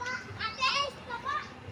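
Children play and shout outside an elementary school, their high voices overlapping at a moderate distance over steady outdoor background noise.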